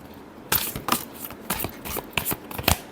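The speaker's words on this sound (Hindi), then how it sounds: "Last shuffle." Tarot cards shuffled in quick bursts of riffling and flicking, several separate passes close by over about three seconds, with no talking.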